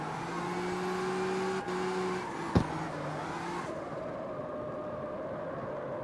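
A Ford Mustang drifts in the CarX Street racing game, its engine droning at a steady high pitch that drops with a gear change, followed by a sharp click and then a lower, quieter hum.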